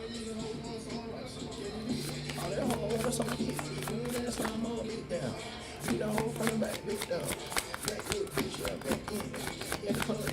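Cards are riffled and bridged repeatedly in quick bursts, crisp fluttering rattles separated by short pauses, with a low steady tone humming underneath.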